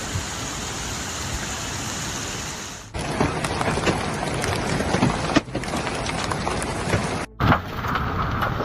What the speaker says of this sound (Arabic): يعني أمطار قوية وسيول